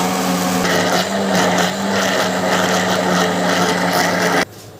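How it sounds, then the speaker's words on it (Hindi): Electric kitchen grinder blending plums, apricots and tamarind for sharbat, a loud continuous high whine and rattle that cuts off abruptly near the end, no talking. "ये देखो मेरी प्यारी बहनों, आलू बुखारा खुरबानी इमली को हमने ग्राइंडर कर लिया है।"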